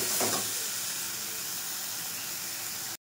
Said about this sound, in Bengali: তারপরে কিন্তু মশলাগুলোকে ভালো করে কষাতে হবে।